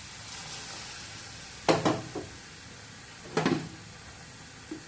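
Milk is poured into carrots cooking in a hot pan, giving two sharp bursts of sizzling and bubbling over a steady low background hiss, with a faint third splash near the end.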